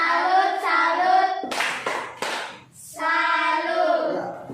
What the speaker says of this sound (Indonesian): Ya, tepuk salut untuk kelompok 2. Tepuk salut.